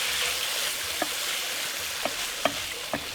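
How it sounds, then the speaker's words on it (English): A spoon stirs a cooked oat mixture with vanilla extract in a pot, giving soft scraping and a few scattered light knocks against the pan over a faint steady background. "And give this a stir."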